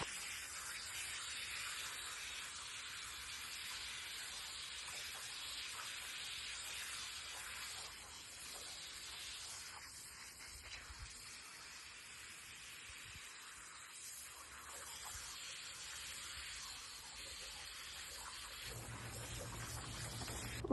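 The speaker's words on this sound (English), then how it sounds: "Then I will go ahead and spray the blanket off, get all the soap off the blanket." Garden hose spraying water to rinse soap off a horse blanket, a continuous soft hiss of spray that stays steady and fairly faint, with slight shifts in tone as the stream moves, ending in quieter low rumble.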